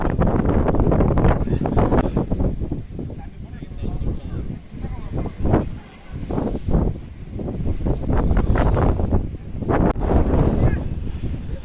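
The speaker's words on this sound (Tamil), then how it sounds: "ஸோ இந்த சீனில் பாருங்கள் எவ்வளோ காற்று அடிக்குதுன்னு." Strong gusting wind at Mullayanagiri, Karnataka's highest peak at 6300 ft, roars steadily across the microphone in a loud, dense rush, with someone talking over it throughout.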